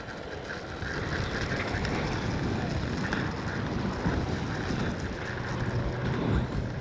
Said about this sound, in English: So if you can still hear the wind,